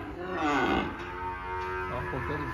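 Cattle at a livestock sale lot give a loud, drawn-out moo lasting most of the moment, with a second, weaker low call near the end and some background noise around it.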